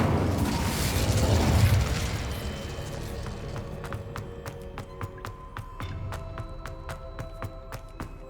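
Incendio fire spell cast in Hogwarts Legacy, a loud whooshing, roaring burst of flame that fades into a train of sharp, regular ticking clicks, with no voices over it.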